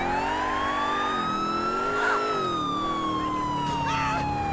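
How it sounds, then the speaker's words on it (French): Police car sirens in the video game GTA IV wail continuously, the pitch sweeping up and down in long cycles, steady and fairly prominent with a faint vehicle rumble underneath. "Et les sirènes surtout."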